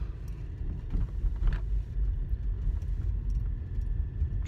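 Car interior on a drive, a steady low engine and road rumble filling the cabin, continuous and fairly loud with no talking.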